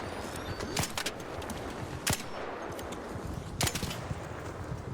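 Video game gunfire, a few sharp cracks and bursts standing out over a busy, noisy game background, with no clear speech.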